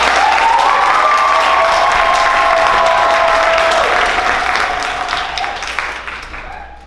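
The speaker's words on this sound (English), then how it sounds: "would you mind giving them a big round of applause?" A loud, dense round of applause from the audience at a spring class show, with a brief cheer or whoop near the start, holding steady for several seconds before fading toward the end.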